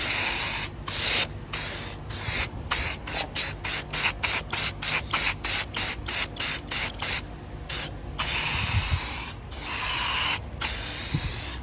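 Rustoleum spray paint hisses from an aerosol can onto a Fiat 500 in light base-coat passes, a loud, close series of short spray bursts separated by brief pauses.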